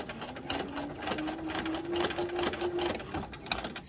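A sewing machine backstitching while sewing quilt binding, with a fast, steady mechanical stitching whir that runs continuously for a few seconds and stops near the end.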